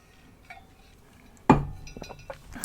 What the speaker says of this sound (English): Let me take a drink of my water.